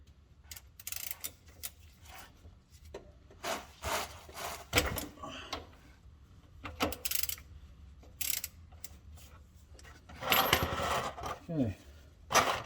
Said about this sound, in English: I will remove this drain plug and drain the oil out into my trusty little pail.